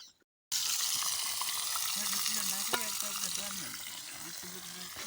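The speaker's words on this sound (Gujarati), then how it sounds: "અહીંયા અમે શાક બનાવી રહ્યા છીએ" Vegetables for undhiyu cook in oil in a pot, a continuous close sizzle and frying hiss with stirring, under intermittent voices.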